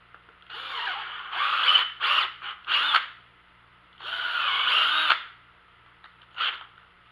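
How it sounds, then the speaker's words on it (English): A drill bores a hole through wood for a drywasher upgrade, running in several bursts of close, whining spinning with short pauses between, alone with no talk. "Decided to drill the hole in the wood just slightly bigger"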